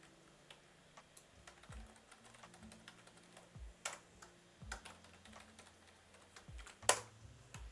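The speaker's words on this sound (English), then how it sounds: "You're going to type in the password for the server" Quiet, close keystrokes tap in uneven bursts on a computer keyboard as a password is entered to log into a Windows Server domain, with one sharper key press near the end and no talking.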